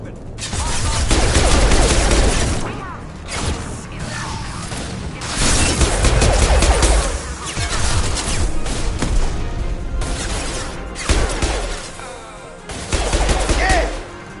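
Gunfire in Mass Effect 2 during a fight with a Krogan: dense bursts of weapon fire and impacts in repeated waves across the whole stretch, loud and close, mixed with combat noise.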